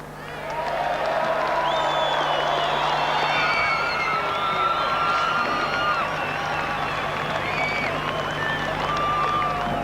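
Stadium crowd at a 1991 Kangaroos vs Kiwis rugby league test in Queensland roars, claps and cheers steadily for Mal Meninga, a sustained, distant-sounding wash of applause and whistles.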